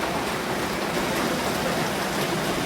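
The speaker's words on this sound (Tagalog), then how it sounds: "Nandoon po yung malakas na ulan." Heavy rain pours steadily over farm fields, a dense, continuous hiss that stays loud for the whole stretch with no voices on top.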